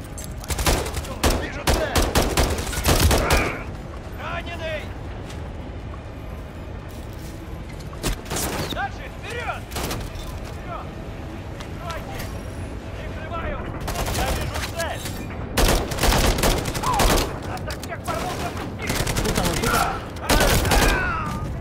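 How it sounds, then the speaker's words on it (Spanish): Turret machine gun in Modern Warfare 3 firing in long, loud, close bursts of rapid shots, separated by quieter stretches of battlefield noise, with a voice talking between volleys. "La torreta, qué bien."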